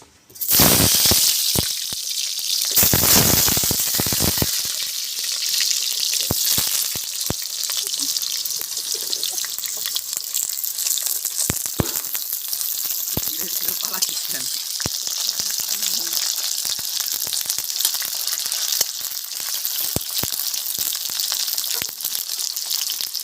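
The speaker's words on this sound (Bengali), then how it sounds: "এবার আলুগুলো ভেজে নেবো।" Sliced potatoes frying in hot oil in a pan during the making of chicken kosha, with a strong burst of sizzle at the start that settles into a steady crackle and occasional sharp pops.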